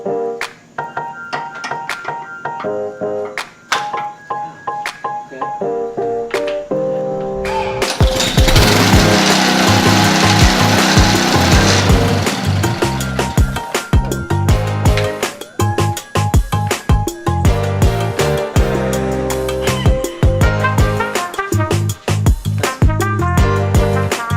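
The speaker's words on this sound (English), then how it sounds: "I have never used a pressure washer before." Pressure washer engine starting up and running, loud rattling mechanical noise with a burst of hissing spray, then a choppy, uneven engine rhythm close at hand.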